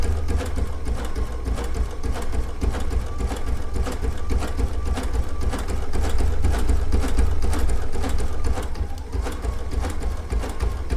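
Baby Lock sashiko sewing machine stitching quilting lines, a steady fast mechanical whir and rhythmic needle chatter running continuously at close range.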